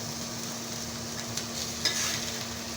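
Onions with turmeric and salt fry in a pan, giving a steady, fairly quiet sizzle with occasional stirring scrapes and no talk.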